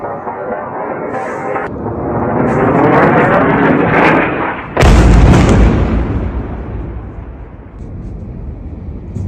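Explosions from Israeli air strikes on Gaza, a rumbling roar building to a sharp heavy blast near the middle, then a long decaying rumble, loud and close.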